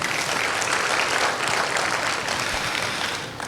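A church congregation applauds God at the close of a sermon, a dense, steady wash of many hands clapping close by that thins slightly toward the end.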